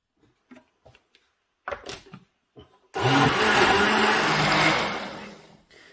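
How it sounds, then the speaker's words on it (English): A kitchen blender runs loud and steady for about three seconds, blending cayenne pepper, turmeric, rosemary and cinnamon into a thick juice, preceded by a few soft clicks and knocks of setting it up. "I'll blend all that up in the blender."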